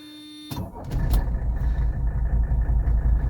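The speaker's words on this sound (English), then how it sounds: "Okay, let's go ahead and fire the car up." A 1983 Mercedes 300TD diesel engine cranks and catches after a moment of quiet, then settles into a loud, steady, clattering idle heard up close.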